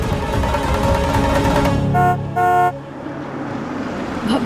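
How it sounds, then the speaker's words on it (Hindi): A car pulls up with engine rumble, then gives two short, loud horn toots close by, after which the engine noise settles back down. "बाबू का गाड़ी का आवाज है।"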